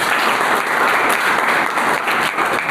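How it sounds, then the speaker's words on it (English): A classroom audience clapping for a student, dense steady applause from many hands, loud and close, filling the whole moment without voices. "Clap for him."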